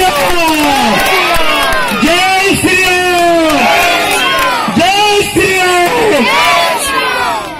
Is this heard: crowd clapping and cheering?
yes